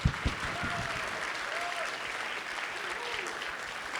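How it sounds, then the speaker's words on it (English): A roomful of people applauds an award recipient at a ceremony, a steady, moderately distant clapping that holds evenly for about four seconds, with a few faint voices underneath. "Please join me in welcoming Dr. Hasan with a huge round of applause."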